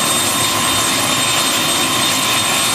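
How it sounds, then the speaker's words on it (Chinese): An engine-driven high-pressure water spray pump, used for washing insulators on high-voltage power towers, runs with a loud, steady, unbroken mechanical roar and whine, close by, with no voices. "这是高压水的迄、那个喷雾的这个泵浦"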